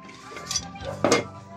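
A plate is set out on a kitchen counter for serving tuna soup, with two short clinks of dishware, the second a little louder, close by and without talk.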